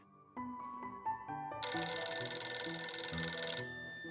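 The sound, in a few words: phone ringing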